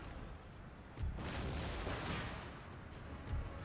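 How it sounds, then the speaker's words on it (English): Cannon fire booms in a Napoleonic-era battle in Empire: Total War, a low rumbling blast swelling up and rolling on for a couple of seconds, followed by another dull thud, all fairly distant and muffled. "Fucking cowards with their fucking cannon"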